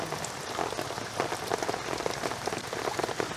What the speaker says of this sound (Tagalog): Lakas pa rin po ng ulan.